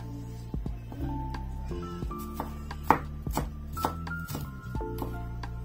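An onion being finely chopped with a knife on a board, a quick irregular series of close, sharp knife taps, no voices.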